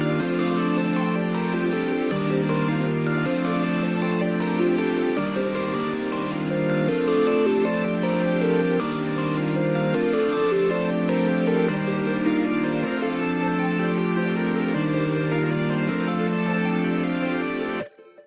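A looping beat melody built from one chord progression layered across several synths, leads and a pluck, with steady stepping chord changes every couple of seconds, full and continuous before cutting off abruptly at the end.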